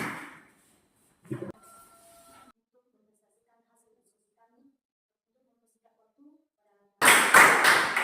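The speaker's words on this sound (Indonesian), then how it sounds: "Tepuk tangan." A short burst of applause from a classroom audience after group presentations, with loud hand-clapping arriving suddenly near the end after a quiet stretch.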